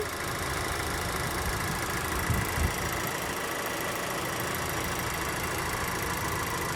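A 2024 Chevrolet Equinox LT AWD engine idles steadily and evenly, a continuous low hum with a faint mechanical rumble and no other sounds.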